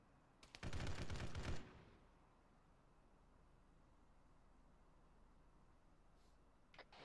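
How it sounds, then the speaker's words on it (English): Burst of automatic gunfire in an Arma 3 military simulation, a loud rapid volley lasting about a second near the start, followed by quiet background hiss and a faint brief sound near the end. "Anyone got eyes on that gunfire? It was from the AI."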